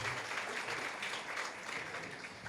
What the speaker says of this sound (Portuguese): Uma salva de palmas aqui para o Christian